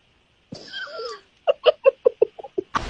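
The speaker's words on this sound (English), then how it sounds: "Meow." A cat gives a drawn-out meow, then a quick series of about eight short, sharp mews in a steady rhythm, close and clear against a quiet room.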